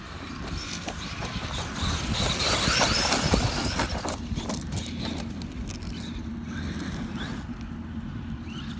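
Traxxas MAXX 4S RC car driving and spinning around on dirt at a mountain bike park, a rising and falling electric motor whine with crunching, scattering gravel, moderately near and steady.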